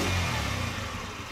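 A Honda scooter engine, just revived after its carburetor was cleaned and new hoses were fitted, idles with a steady, low rumbling drone heard close up, with no talk.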